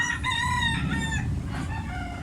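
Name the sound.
black-legged rooster crowing and clucking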